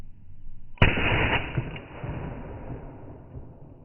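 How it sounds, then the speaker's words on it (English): A single sharp shot from a Tokarev handgun cracks out loud, then a long rolling echo trails off for several seconds across open space. "that sounds like a fucking hand cannon for sure"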